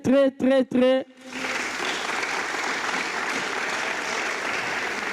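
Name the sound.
improv theatre audience applause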